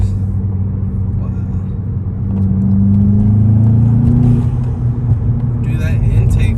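A 2021 Volkswagen Jetta GLI accelerating, its engine intake rising in a low droning growl that climbs in pitch over the road and wind noise inside the cabin.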